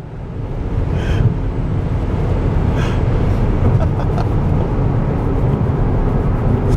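A BMW X5M xDrive Competition accelerates through a tunnel, its loud, steady engine and road roar filling the enclosed space for the whole stretch without letting up.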